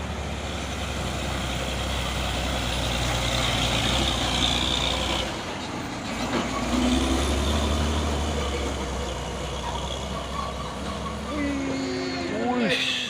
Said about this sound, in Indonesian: Trailer LPG.